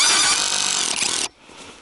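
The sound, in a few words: cordless drill driving a screw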